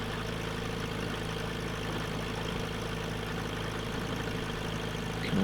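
A seaplane's propeller engine drones at a steady, even pitch in Microsoft Flight Simulator while the plane sits on the water, a constant close hum with no change in rhythm.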